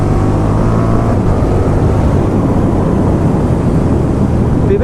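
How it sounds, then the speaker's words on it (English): A 2019 KTM 1290 Super Duke R ridden on small roads, its engine a loud continuous roar with heavy wind rush, steady throughout with no talk. "Oh, the torque on this bike is just incredible."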